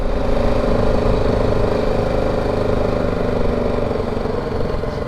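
A touring motorcycle idles near a border crossing into Lebanon, a steady low mechanical thrum with a constant humming tone, close and even throughout, with no talk over it.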